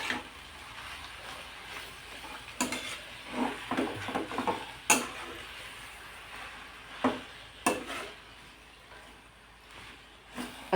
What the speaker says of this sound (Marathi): अशी व्यवस्थित परतून घेते 1-2-3 मिनटं